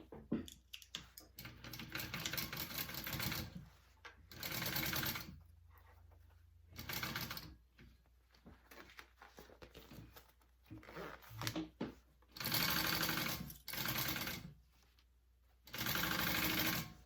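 A sewing machine stitches the lining of a fabric wristlet in several bursts of rapid, close mechanical chatter separated by short pauses, with some handling noise in between.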